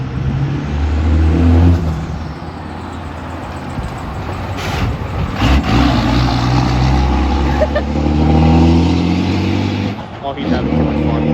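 Wrecked Cummins-swapped diesel truck driving, its engine droning and revving up in loud, surging waves close by, with people talking excitedly over the rumble.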